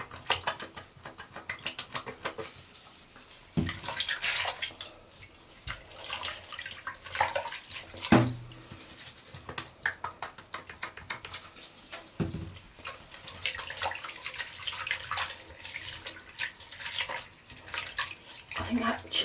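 Tap water runs in bursts into a basin for washing raw suri alpaca fibre, with intermittent splashing, sloshing and handling noises at close range, and quiet stretches between the bursts.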